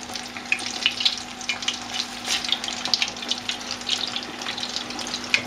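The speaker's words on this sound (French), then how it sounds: "vous mettez vos palottes dans l'huile bien bouillante et vous allez les laisser cuire quelques minutes jusqu'à ce qu'elles soient bien dorées" Italian pallotte fritters fry in a pan of boiling oil, a steady close crackle and sizzle with bright popping spatters throughout, no voices.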